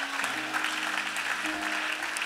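A church congregation applauds and cheers, a broad wash of clapping and voices under sustained organ or keyboard tones that shift pitch partway through.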